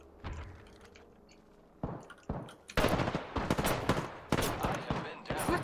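Shotgun blasts in the video game Apex Legends, heard as several loud, sharp bursts coming in quick succession after a quieter start, with busy game noise between them.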